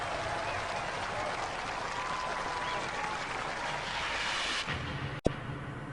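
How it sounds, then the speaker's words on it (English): Robot Wars studio audience applauds the super heavyweight winners, a steady roar of clapping from a large crowd lasting several seconds before cutting off sharply with a brief click. "Ladies and gentlemen, give them a round of applause."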